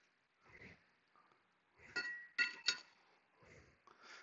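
A metal brake rotor from a 2014 BMW i8 clinks as it is set down beside another, a few light metallic taps and rattles, close and quiet.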